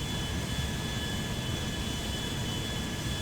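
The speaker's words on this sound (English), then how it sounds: "Pretty pleased with the feel of the taxi characteristics of the airplane." A Boeing 737-800 mod airliner taxiing in GTA 5, giving a steady jet engine whine and broad rushing hum with faint high tones, constant and unbroken.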